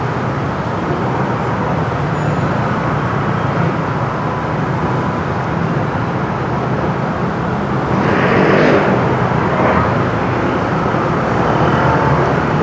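Traffic jam beneath an overpass, with a steady, loud wash of idling and slowly rolling cars and a swell of engine and road noise partway through, with no talk.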